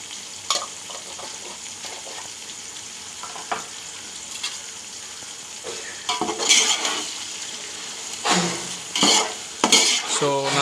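Salt stirred into a chicken dum biryani mixture in a pot, with a soft background sizzle broken by scattered metal spoon scrapes and clanks against the pan that grow louder and busier toward the end.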